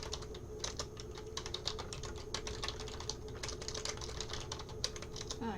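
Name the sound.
typing a guest name on a computer keyboard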